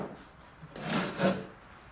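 A wooden prototype drawer for a camp kitchen chuck box, built with box joints, slides with a faint wooden rub that swells twice in quick succession.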